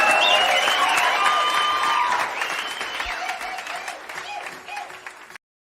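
Live audience applause at a recorded talk-show performance with harmonica, cajon and bow, a dense wash of clapping that swells loud and slowly thins out toward the end, mixed with voices and a few tonal sounds.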